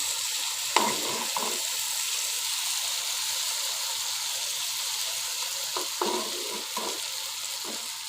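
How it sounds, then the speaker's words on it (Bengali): Spice paste frying in a pan for Bengali fried hilsa, a steady soft sizzle throughout with a few sharp stirring scrapes near the start and again toward the end. "আর এখানে মশলাটাকে বেজে নিচ্ছি"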